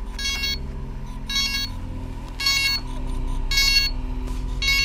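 Bursts of high electronic beeping from a DJI Inspire 1 drone during a firmware update repeat in a steady rhythm over a low mechanical hum, fairly quiet, with no voices.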